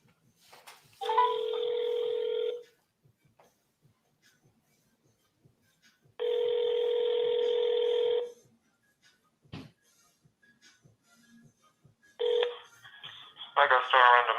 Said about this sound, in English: I'm going to make this phone call.